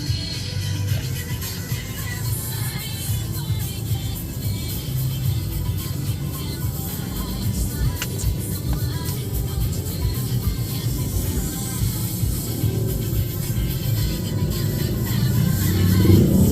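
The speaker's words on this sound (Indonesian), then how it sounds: "Ini kita bisa lihat kemacetan di kanan kiri. Jalur utamanya macet, jalur sampingnya macet." Congested traffic on a narrow rural road past rice fields, with vehicles jammed on both the main lane and the side lane; a steady low rumble of idling and creeping engines, swelling slightly louder toward the end.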